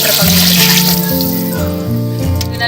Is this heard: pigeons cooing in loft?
no